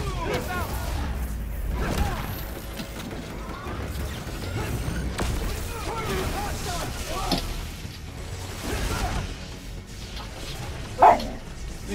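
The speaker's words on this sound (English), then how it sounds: "If you hear that noise, it's my dog." A dog barks and yips indoors in short bursts while people talk over a video game, with one sharper, louder bark near the end.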